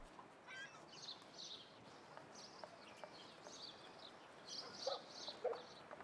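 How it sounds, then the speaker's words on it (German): Dogs barking and yipping in the video game Summer in Mara, faint and somewhat distant, in scattered short bursts over a quiet ambient bed. "Da sind Hunde."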